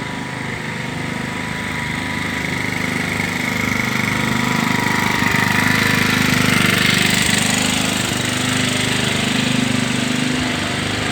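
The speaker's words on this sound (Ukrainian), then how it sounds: "Це я мовчу, щоб ви почули, як е, працюють генератори." Steady mechanical droning from running power generators in Kyiv during a water outage, a constant rumble with a buzzy upper whine and no talking.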